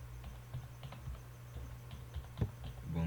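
Keystrokes tap on a computer keyboard while typing a document in Microsoft Word, with a steady run of light clicks and a firmer press near the end and a low hum underneath.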